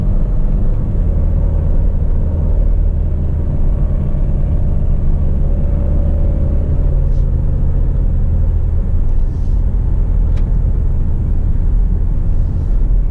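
An Alfa Romeo Stelvio SUV on all-season tires drives on the road, heard from inside as a steady, loud low rumble of engine and road noise that carries on unbroken.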